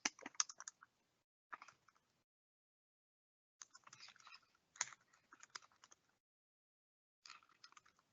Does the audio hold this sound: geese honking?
no